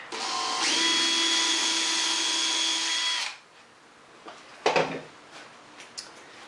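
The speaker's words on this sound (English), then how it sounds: "This is a smaller bit for a pilot hole in the oak." A power drill bores a small pilot hole in oak on a bench hook, a loud steady whine lasting about three seconds before stopping, followed by a few quieter knocks and handling sounds.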